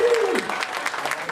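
A crowd at a Senandung Muhibbah 2010 community event gives the organising committee a short burst of clapping, with a voice speaking over it at the start.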